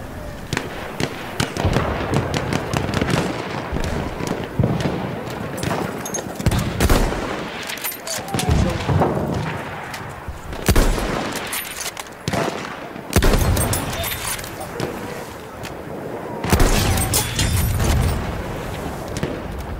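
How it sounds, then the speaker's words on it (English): Dense gunfire in the online multiplayer game Battlefield 1 on Xbox One: loud bursts of rapid shots and heavy booms, some near, some distant, almost without a break. "Kind of panicking that there's bullets flying my direction yet."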